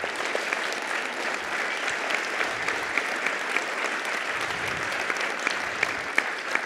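Sustained applause from a conference audience at an Angular developer event, dense steady clapping throughout with scattered sharper claps and no voices on top.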